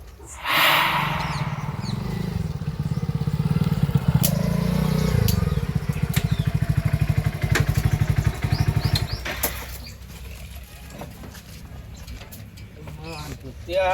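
A motorcycle engine idles and revs close by with a pulsing rumble, then fades out, leaving quieter background noise.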